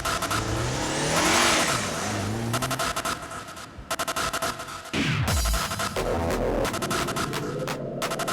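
A car out on the road sweeps up through its gears, its engine revving and accelerating loudly and close by, with brief drops between pulls and no voices.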